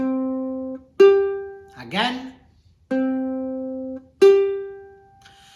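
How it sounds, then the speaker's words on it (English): Two plucked ukulele notes sounding together as a perfect fifth, ringing and decaying, played twice; between them a short spoken word. "Now let's work on another very common interval, the perfect fifth."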